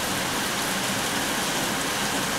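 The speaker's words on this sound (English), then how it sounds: "Getting bashed by hail, it sounds like." Hail drums steadily on a truck covered with a thick blanket during a storm in Austin, Texas, a dense continuous patter heard from close by with no voices.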